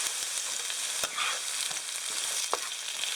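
Oil sizzles steadily in a frying pan during pizza making, a constant bright hiss with a few scattered pops and light utensil clicks.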